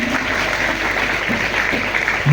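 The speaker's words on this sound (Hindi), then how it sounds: "तालियों में और भी गड़गड़ाहट हो सकती है" An audience at a Kargil Diwas tribute event stands to welcome the chief guest, a brigadier, with loud, sustained applause that holds steady throughout and swells slightly near the end.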